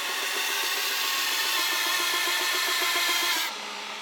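A Shop Master 72-inch belt grinder with a Blaze belt grinding a convex edge onto a knife blade: a steady, close whirring hiss with a faint pulsing rhythm that drops away sharply near the end.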